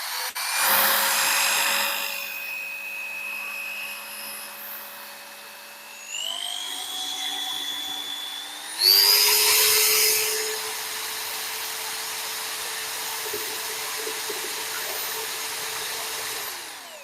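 A power drill mixes honey into water for a black forest berry mead, its motor whining steadily and stepping up in pitch twice as the speed increases, close and fairly loud with no talk.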